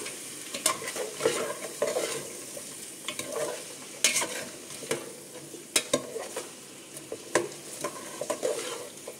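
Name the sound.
stirring veg pulao in a pan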